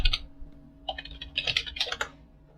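Typing on a computer keyboard into a search bar: a short burst of keystrokes, then a rapid cluster of close, crisp clicks with brief pauses between groups.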